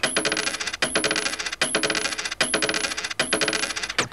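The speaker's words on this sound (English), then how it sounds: "a musical pattern of a coin falling on a table" A tape loop of a coin falling on a table: a rapid clattering rattle bouncing on the hard surface repeats in a regular looping pattern, bright and metallic, with no voices.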